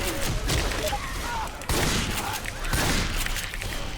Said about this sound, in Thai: ใครยิงถังระเบิด